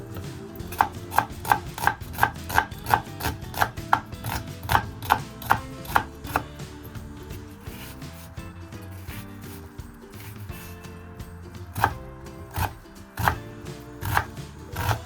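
Half an onion being finely chopped with a knife on a cutting board, rapid regular close knife taps in bursts with a short pause in the middle, no talking.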